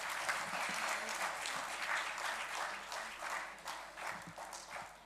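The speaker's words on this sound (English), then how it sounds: "Please give a warm round of applause for the guests." Audience applause welcoming guests at a university event, a broad continuous patter of many hands at moderate level, steady throughout with slight swells.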